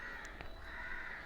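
A crow caws once or twice in the video game Granny 3, a short harsh call heard alone over a faint steady background hum.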